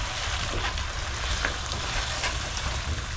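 Tilapia fries in oil, sizzling and crackling steadily at close range, a dense continuous frying hiss with small pops and no voices.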